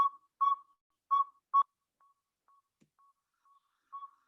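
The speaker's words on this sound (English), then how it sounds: "this is one of the male calls of a Saw-Whet owl" A male Northern Saw-whet Owl gives a series of short, evenly pitched whistled toots, clean and isolated against near silence, some notes louder and others faint.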